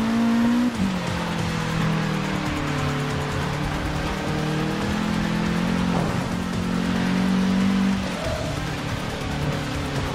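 In Forza 6 Apex, a damaged, faulty car engine drones steadily on a rainy, foggy track. Its pitch dips and climbs with shifts and throttle changes, and a hiss of rain and tyre noise runs underneath.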